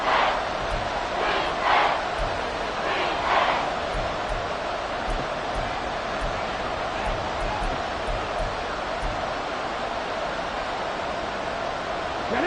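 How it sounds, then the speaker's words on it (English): A stadium crowd at a Buccaneers–Panthers football game keeps up a steady, loud, rushing roar of cheering, with a few brief swells of shouting rising above it. "This crowd doing all they can."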